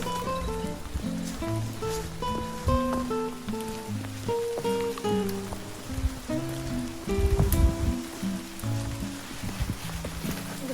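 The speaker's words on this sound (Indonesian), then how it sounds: "Kabutnya tuh jadi kayak berembun gitu, jadi kayak hujan." Dense patter of rain or dripping mist from fog falls steadily on a mountain trail on Mount Raung, a continuous textured wash of drops at moderate loudness with no talk.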